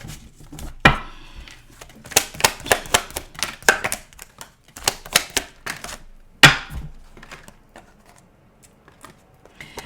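Tarot cards being shuffled by hand, a busy run of crisp slapping riffles and flicks with louder bursts near the start and middle, fading to sparse taps by the end, with no talking.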